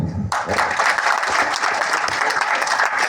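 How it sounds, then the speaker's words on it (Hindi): A business-plan seminar audience breaks into loud applause for Sameer after a brief quiet moment, dense clapping from many hands that stays strong and even to the end. "समीर के लिए जोरदार तालियां।"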